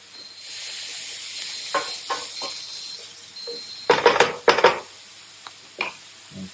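Green peppers cooking down in a copper pan for shakshuka, with a soft steady sizzle under irregular stirring scrapes and louder clattering bursts around the middle.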